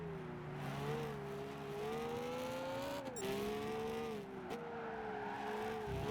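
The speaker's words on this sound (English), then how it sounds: "Listen to the engine." A race car engine in Gran Turismo 5 hums at a steady, loud pitch, rising and dipping with brief revs and shifts, under faint tire squeal and no voices.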